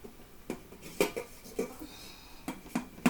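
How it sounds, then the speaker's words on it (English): A heavy pan of boiled potatoes being tipped to drain, with loud metallic clanks and knocks of lid and pan arriving in irregular bursts, close and without speech. "I'm going to drain them while they're in the pan."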